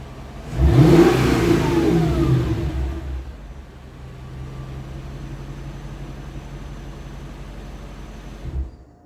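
A 2005 Mercedes C55 AMG V8 engine revs sharply once near the car, then settles into a steady low idle that carries on with a faint blip at the end.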